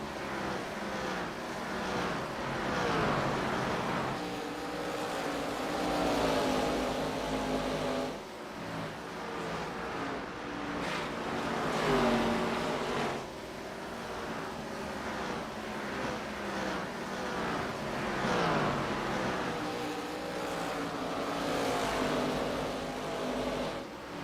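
Stock cars roaring around the Bristol Motor Speedway oval in a racing video game, engines droning and rising in repeated passing sweeps, loud and continuous with no talk.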